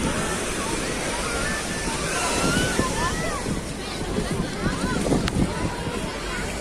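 Sea waves wash onto Gleem public beach in Alexandria, a steady broadband surf with wind noise filling the whole stretch, soft and continuous with no distinct breaks.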